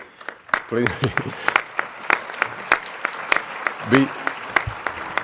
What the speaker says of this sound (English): This is very flattering when you are clapping here